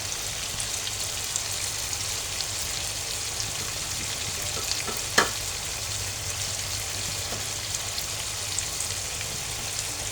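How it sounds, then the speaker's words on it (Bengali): Chicken frying in a pan with onion, salt and turmeric, a soft continuous sizzle with one brief clink of a utensil midway, steady and close without any talking. "পেঁয়াজটা দিয়ে আর লবণ হলুদ দিয়ে চিকেনটা আমি কষিয়ে নিয়েছি"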